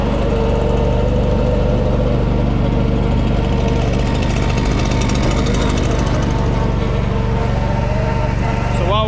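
A Walker lawn mower engine idles and warms up close by at a job site, a loud, steady, throbbing mechanical rumble with a rapid pulsing beat throughout.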